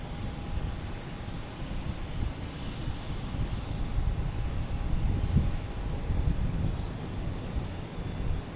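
A United Boeing 737 MAX 9 airliner at Boston Logan Airport gives a steady, moderately loud engine rumble with a faint constant tone above it. The sound holds level throughout with slight swells, and there is no talking.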